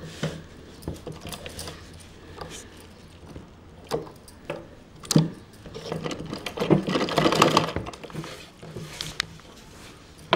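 A sewing machine stitches a blouse in short, uneven bursts of rapid mechanical pattering, close and fairly quiet, with a denser run of stitching partway through and soft handling noises between.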